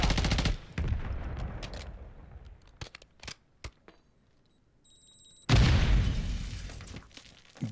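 The BP50 automatic rifle in a first-person shooter game fires in loud rapid bursts, with a sharp single shot and a few isolated reports between them and heavy explosive gunfire near the end.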